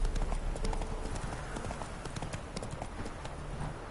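Roach the horse's hooves clip-clopping at a walk in The Witcher 3, a steady close rhythm of hoofbeats over game ambience.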